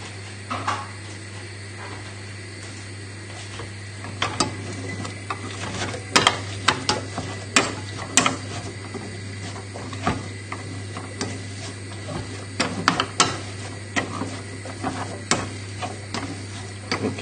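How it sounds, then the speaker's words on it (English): Boiled potatoes mashed with a hand masher in a pan over low heat, irregular soft thuds and squelchy scraping strokes in an uneven rhythm over a steady low hum, with no talking. "get your masher and start mashing"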